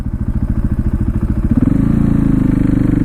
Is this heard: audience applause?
no